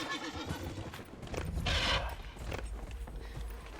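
A horse in Dragon Age: Inquisition lets out a short, bright neigh midway while hooves trot in an uneven clip-clop beneath outdoor game ambience.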